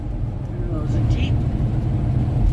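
Inside a vehicle rolling slowly along the rough Taylor Highway in Alaska, a steady low road rumble and engine drone fills the cabin, close and constant, with a person talking over it.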